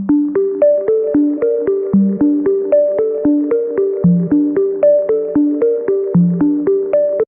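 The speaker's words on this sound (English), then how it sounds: "we have this splice keys loop here, which originally sounds like this." Unprocessed Splice keys loop: a dry, steady stream of plucked keyboard notes in a repeating melodic pattern with a low bass note every two seconds, played alone and up close.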